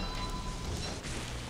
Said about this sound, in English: that will really just cut down on the rain that we're getting on our heads here